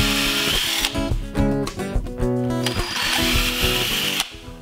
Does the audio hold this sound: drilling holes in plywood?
yes